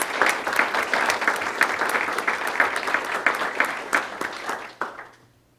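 A school board meeting audience applauds steadily for several seconds, with clear individual claps in the mix, before the clapping thins out and stops.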